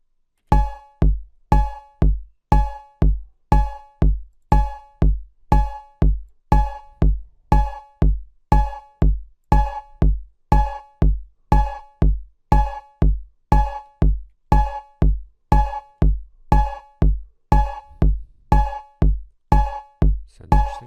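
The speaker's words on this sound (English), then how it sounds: "See what a cowbell sounds like." Cowbell layered over a snare percussion track, struck in a steady repeating pattern of sharp metallic hits roughly every 0.6 seconds, loud and upfront with no voices.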